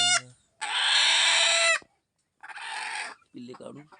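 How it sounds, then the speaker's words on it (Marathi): Native country chickens clucking on a hill-area farm, a few loud close squawking calls with short pauses between them and softer clucks at the end, no talk. "गावरान कोंबड्याचे पिल्ले आपण काढून देतो अशा पद्धतीने"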